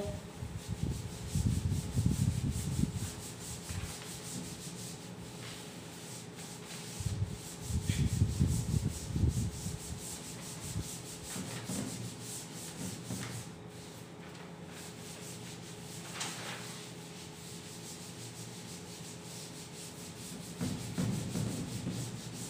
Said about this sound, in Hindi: चलिए इसको अब मैं रब कर देता हूं।